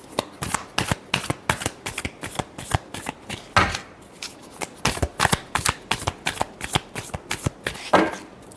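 Tarot cards shuffled by hand in a quick run of crisp riffling snaps, repeated steadily and close up, with no talking.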